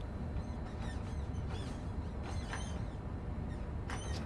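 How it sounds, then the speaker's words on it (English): Squeaking sunblind in a Train Sim World 5 train cab: thin, high creaks and squeals come in short irregular bursts over a steady broadband rumble of the running train. "Oh, there's actually a squeaking sound."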